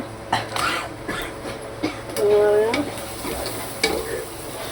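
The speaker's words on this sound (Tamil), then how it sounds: "இது வந்து பச்சை மிளகாய், கடுகு, வெங்காயம், பூண்டு போட்டு வணக்கிட்டுருக்கேன்" Green chilli, mustard seeds, onion and garlic sauté in a pan, giving a steady close sizzle broken by spatula scrapes and taps, with a brief voice partway through.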